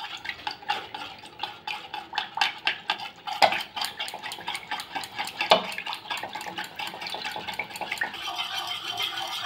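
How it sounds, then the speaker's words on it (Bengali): Oil and milk are whisked together in a bowl for fruit cake batter, giving quick, rhythmic clinking and scraping strokes against the bowl, close and continuous with a couple of louder knocks, no talking. "দুধটা দিয়ে তেলটাকে ভালো করে মিশিয়ে নিলাম।"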